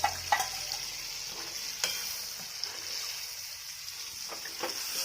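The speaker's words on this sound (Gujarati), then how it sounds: "તો આ મગ અમે નાખી દેવાના, બાફેલા મગ કમ્પ્લેટ।" Boiled mung beans tipped into a hot pan for a Gujarati mung bean curry, a bright steady sizzle with a few clicks and scraping stirs, close and without talk.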